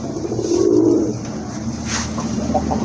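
A Sirazi pigeon gives a short, soft, throaty coo close by at a pigeon sale, a single rolling call that fades into quiet background hum.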